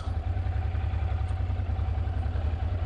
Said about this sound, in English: Engine running smoothly.